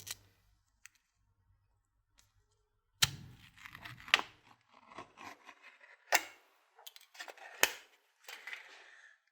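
An easy-open can of Dardanel tuna with couscous being pulled open: a sharp metallic crack, then several seconds of scraping, clicking and tearing of the lid, with further sharp snaps, close and moderately loud.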